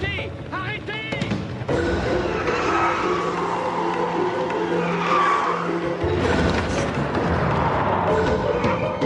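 A car speeds away with tires skidding and squealing, loud and close, with the engine roaring for several seconds and voices shouting at the start.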